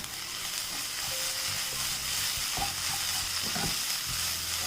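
Vegetable filling with a tablespoon of tomato ketchup is stirred in a hot pan, a steady close sizzle with scraping spoon strokes against the metal, no voices.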